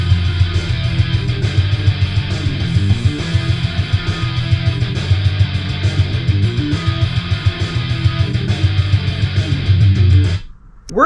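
A song's first verse: dense, loud progressive metal with heavy distorted guitars and driving drums, continuous until a brief cutoff at the end.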